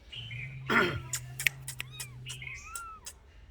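A mother cat meows repeatedly beside her two-day-old newborn kittens indoors at home. The cries are close and fairly loud, coming in several short, rising calls over a quiet background.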